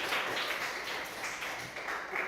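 Students in a classroom clap together, a faint, steady wash of applause lasting a couple of seconds with no talking over it.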